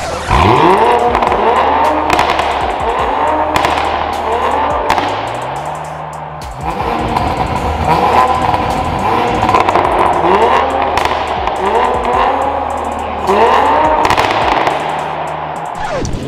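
A Toyota Supra with an FI exhaust at the SEMA show revs hard again and again, throttle blips rising and falling with loud crackles and pops in between, close and with no talk over it.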